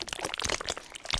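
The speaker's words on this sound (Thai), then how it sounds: "ตัวนี้จะเป็นเสียงน้ำผึ้งนะเนี่ยปึ๊บ" Sticky, crackling keyboard key sounds with a honey theme tick quickly and close in a Roblox jumping tower game, a short burst of clicks with no talking.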